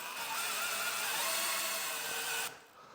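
A drill bores a cylindrical mortise in wood, a sustained whirring grind that holds steady for over two seconds, then cuts off abruptly and leaves quiet room tone.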